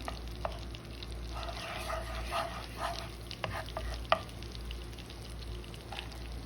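Butter melting in a pan, a steady soft sizzle and frying hiss running throughout with a few faint clinks and stirring taps, close and continuous.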